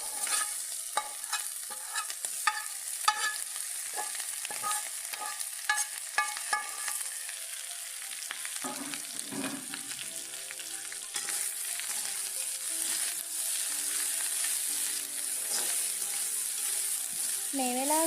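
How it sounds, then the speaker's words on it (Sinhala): Fried prawns tossed back into a Sri Lankan tempering in an oiled pan sizzle steadily up close, with repeated clinks and scrapes of a stirring spoon and a brief watery patch midway. "දැන් අපි කලින් බැදගත් ඉස්ස ටික මේ ටෙම්පරාදුවටම දාලා තව ටිකක් වෙලා ඒවත් එක්කම ටෙම්පරාදු වෙන්න අරින්න ඕන."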